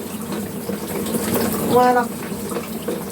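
Shower water running while hair dye is rinsed out, a steady splashing hiss with a brief gurgle midway, under short spoken remarks.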